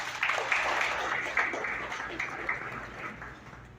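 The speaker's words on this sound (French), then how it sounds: "veuillez l'applaudir s'il vous plaît" Audience applause for a youth minister at the investiture ceremony of Haiti's youth government, moderately loud clapping that rises and gently fades over a few seconds, with a voice faintly under it.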